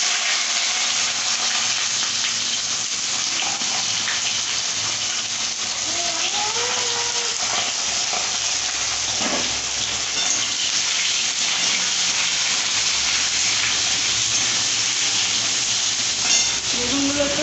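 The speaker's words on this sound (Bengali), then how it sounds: "এরপরে বেগুনগুলো ভাজা হচ্ছে।" Eggplant pieces fry in hot oil in a pan with panch phoron spices, a continuous close sizzling hiss with occasional spatters and stirring clinks, no talk.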